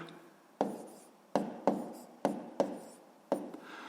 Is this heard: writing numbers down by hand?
yes